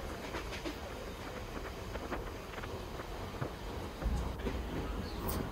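Steady rumbling and rattling of a moving Mumbai local train car, with wind buffeting and clanking, continuous throughout.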